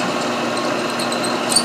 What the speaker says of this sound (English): About to come out the other side. I don't want to snatch the end off another drill bit.